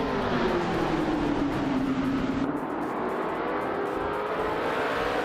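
Engines of vintage race cars in a racing video game, led by a 1966 McLaren M10A at the start, roar steadily and loudly with a falling engine tone as the pack runs together.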